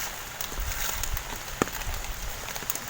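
Large raindrops patter and tap on surfaces in a steady outdoor shower, with scattered sharper drips and one louder close splat over a soft continuous hiss.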